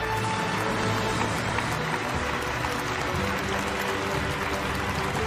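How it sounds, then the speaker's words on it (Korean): Audience applause at the Korean Peninsula Peace Summit, a steady, dense wash of clapping from a large crowd that holds at an even level throughout. "박수를 부탁드리겠습니다."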